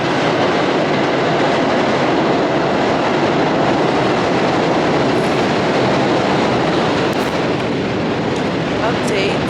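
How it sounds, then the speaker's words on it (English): Train in Brooklyn, New York: a steady, loud, broadband rumble of rolling rail cars fills the whole stretch with no pauses, nearby and continuous, with faint high squeals toward the end. "I'm waiting for the train"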